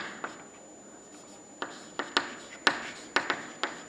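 A pen writes on paper during a lecture on reinforced concrete column design: close, dry scratching strokes, with several sharp taps of the pen as it sets down, in short bursts separated by quiet pauses.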